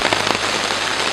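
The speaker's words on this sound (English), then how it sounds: "it started to rain kind of crazy on us" Heavy rain pounding on a tent in the Wabakimi wilderness, a dense, close, continuous patter of drops over a brief moment.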